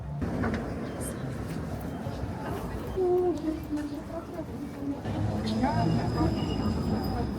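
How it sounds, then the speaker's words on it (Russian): Tram rolling along a Moscow street, a steady rumbling rail drone with faint wheel squeals and tonal whines rising midway, heard from nearby amid continuous city traffic noise. "Один из любимейших мной видов транспорта – это трамвай."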